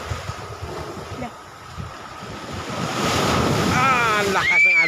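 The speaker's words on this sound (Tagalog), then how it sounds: "ang lakas ng alon" Strong surf pounds the shore at Sabang beach in Vinzons, Camarines Norte: a loud, continuous rush of breaking waves with heavy wind buffeting the microphone, and a voice exclaims briefly near the end.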